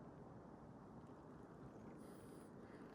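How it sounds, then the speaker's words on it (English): A waterfall roars far off in an old-growth cedar forest near a bluff, a steady broadband rush that fills the whole stretch at low level with no talk over it. "You can hear a waterfall"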